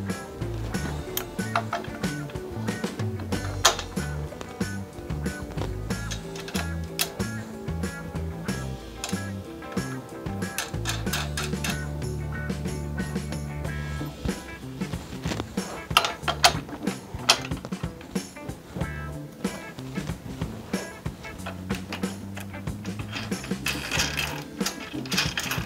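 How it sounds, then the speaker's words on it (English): Frame bolts, washers and nuts being fitted on a Miami Sun Baja trike, a busy stream of metallic clinks, ratcheting clicks and rattles close to the microphone, with dense tool noise throughout. "take your other two black frame bolts from the inside and go out, put the washers and the nuts on"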